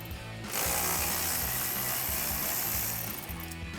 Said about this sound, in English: we'll grab a 10mm socket to take that out